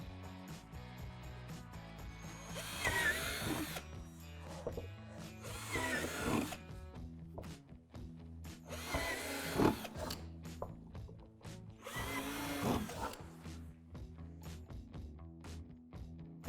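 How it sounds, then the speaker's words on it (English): Four separate bursts of a power drill boring holes through a plastic play tower rock wall, each lasting a second or two, spaced evenly apart with quieter mechanical clatter between them. "Drill out the 4 holes on 2 of the rock walls from the backside."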